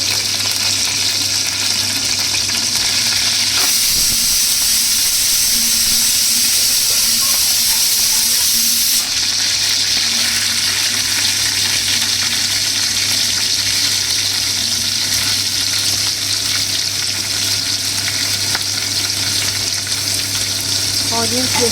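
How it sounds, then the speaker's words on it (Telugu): Thinly sliced onions hiss in a pan for chicken fry, giving a loud, dense, continuous sizzle that stays close and unbroken throughout, with steam-like hiss swelling briefly early on. "కొద్దిగా వేగిన తర్వాత మనం సన్నగా కట్ చేసుకున్న ఆనియన్స్ వేసుకోవాలి."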